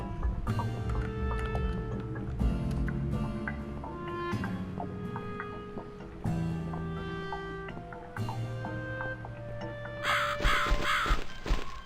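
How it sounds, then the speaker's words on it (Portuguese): A crow in a video game gives several loud, close caws in an irregular series, with rhythmic game sounds in between and a brief burst of noise near the end. "Será que eu tenho que seguir o corvo?"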